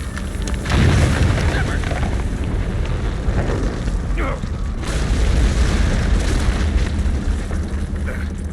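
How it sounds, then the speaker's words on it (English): A cave-in in the video game Mass Effect 3 produces a heavy, continuous rumbling collapse with deep booms rolling through, while faint voices briefly pass over it. "What was that noise, Shepard? Sounded bad. Cave in."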